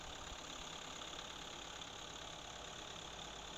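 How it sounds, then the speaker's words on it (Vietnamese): A Kubota L1-345 tractor's four-cylinder engine idles smoothly at close range, giving a steady, even mechanical drone with no voices. "Máy nổ rất là êm luôn."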